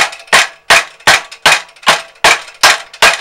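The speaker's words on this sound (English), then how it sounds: "what I've got is a brass lump hammer" Eight sharp metallic taps from a brass lump hammer striking metal on a tow hitch bar, evenly spaced and loud, each ringing briefly before the next blow.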